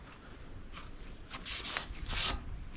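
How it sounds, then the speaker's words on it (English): Hand sanding a car body panel with the palm, scuffing the old paint before 2K filler primer, a dry rasping rub in short strokes that grows louder toward the end, close and alone. "you want to use like pretty much the palm of your hand, okay, when sanding"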